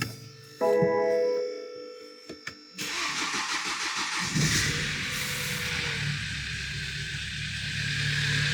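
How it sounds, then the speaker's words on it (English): BMW 4 Series with a rough-running, shaking engine cranking and firing up after a chime and clicks, then settling into a steady, close idle. "So let's start the car back up again."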